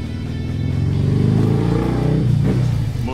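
A motorcycle rumbling past close by, a loud low engine drone that holds steady and swells slightly as it passes, with no talking.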